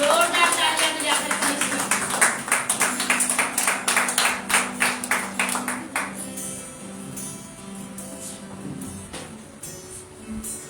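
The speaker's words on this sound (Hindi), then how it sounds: "जोरदार तालियां बजाकर" A church congregation at a Sunday service claps rhythmically and in unison to welcome the pastor, loud steady beats over music that fade after about six seconds as a voice carries on.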